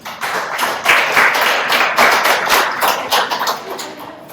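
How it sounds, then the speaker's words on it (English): An audience at a history talk on skateboarding in Hermosa Beach claps steadily for several seconds, dense close hand claps with no speech over them. "So we all owe him a round of applause for that."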